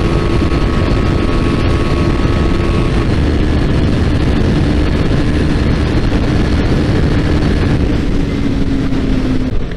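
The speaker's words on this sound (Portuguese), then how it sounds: "baixar a quinta aqui e acelerar" Yamaha Fazer 250 motorcycle accelerating hard in fifth gear on an open road, a steady droning engine note rising slowly in pitch against constant loud wind rush, with no talking.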